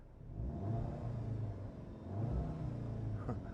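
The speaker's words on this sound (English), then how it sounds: "The engine sound," A 2017 Audi TTS 2.0 TFSI engine heard from the cabin, a low steady rumble with slight rises in revs, quiet and smooth with no talk.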